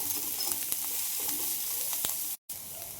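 Chopped onions frying in a pan for kanda poha, a soft continuous sizzle with occasional light pops and scrapes, close and without voices, broken by a brief cut of silence.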